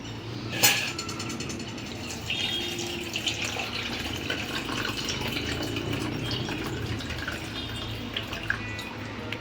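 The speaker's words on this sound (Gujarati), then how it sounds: "જો આપણે આમાંથી બધું પાણી કાઢી નાખશું." Water pours and trickles steadily as it drains from chana dal soaked for hours, with a sharp clink near the start and faint dripping, fairly close.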